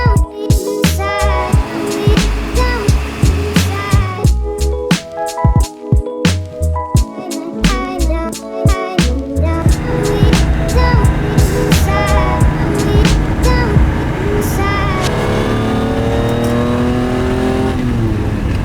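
A Lamborghini Countach on the road heading into London, its engine revving and accelerating loudly and up close through repeated gear changes, then settling into a steady, sustained cruising drone.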